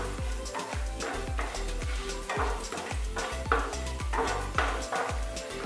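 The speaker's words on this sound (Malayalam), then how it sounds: "5 ബദാം ചെറുതായി അരിഞ്ഞതാണ്, അത് ചേർക്കാം. ഒന്ന് വഴറ്റി കൊടുക്കുക." Chopped almonds sautéing in hot ghee in a pan, a continuous close sizzle broken by regular scraping stirs of a utensil against the pan, with no voices.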